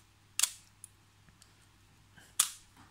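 Nikon FE2 film camera shutter fired on the bulb setting gives two crisp, close mechanical clicks about two seconds apart, opening then closing, in an otherwise quiet room.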